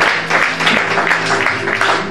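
A church congregation applauds steadily, a dense continuous wash of clapping that stays fairly loud and even throughout, with no voices standing out.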